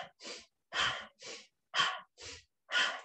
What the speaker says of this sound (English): Inhale up, exhale down.